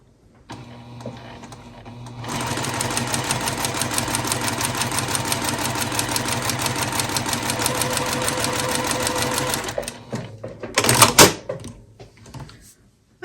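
A sewing machine runs steadily for about seven seconds, stitching along a fabric edge for a Christmas sewing project, then stops, followed by a few brief clicks and handling noises.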